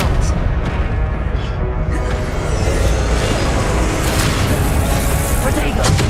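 Expelliarmus disarming spell cast during a Hogwarts Legacy video game duel, a loud continuous rush of booming, crackling magical blasts and combat noise filling the whole stretch.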